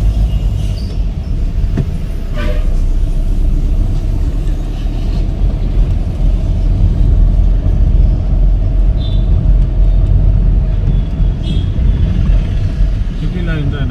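A car drives in third gear, a steady low engine drone with road rumble lasting the whole time, and a voice talks over it.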